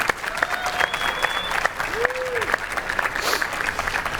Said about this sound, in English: maybe with a round of applause just to encourage them